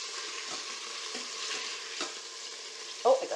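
Chicken pieces brown in an Instant Pot with a steady close sizzle, broken by a few soft scrapes and a sharper clatter near the end as pieces are turned.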